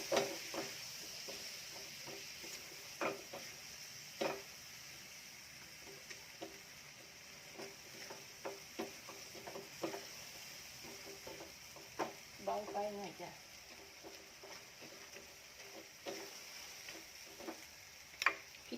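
Quiet kitchen clatter of a spatula scraping and tapping a pan in irregular bursts while stir-frying cuttlefish with salted egg yolk, with a faint sizzle underneath and occasional soft voices.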